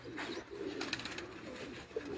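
Pigeons cooing on a rooftop loft, low soft rolling coos repeating steadily at close range, with faint background ambience and no talk.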